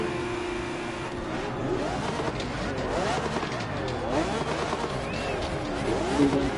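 A Lamborghini hypercar in The Crew Motorfest, its engine droning and revving with rising and falling pitch sweeps over a steady road roar, moderately loud, with a voice talking over it.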